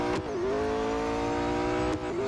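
Race car engine from the Real Racing 3 mobile racing game holds a steady loud high drone for over two seconds, with brief gear-shift dips near the start and end as the car is pushed hard around the track.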